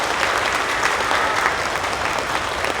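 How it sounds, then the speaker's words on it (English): A large audience at a district school music festival gives a loud, sustained round of applause for the guest conductors, dense continuous clapping throughout. "May I please have a round of applause for their work tonight."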